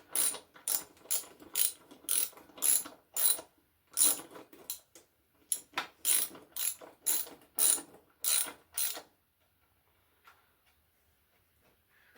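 A hand ratchet tightens the sump bolts on a classic Austin car, with roughly fifteen rhythmic bursts of close, crisp clicking that stop abruptly and leave near silence at the end.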